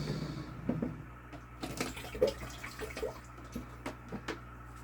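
Water sloshes and drips softly as something is rinsed after stirring in a small rotifer culture setup, with scattered faint splashes and trickles, quiet and close, without talk.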